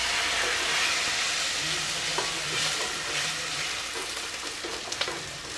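Masala spices fry in a pan with a little water, giving a continuous moderate sizzle with soft bubbling and a few light stirring clicks.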